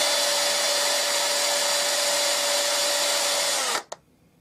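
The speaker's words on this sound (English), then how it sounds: "put it on a standing mandrel and just spin it in a drill" A power drill spins a ring mounted on a standing mandrel, giving a loud, steady whine with a sustained tone for several seconds before it abruptly stops, followed by a brief clack and near silence.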